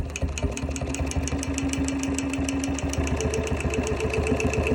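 A sewing machine stitches a quilt corner, its needle running in a fast, steady mechanical rhythm that stays close and continuous throughout, with no talking.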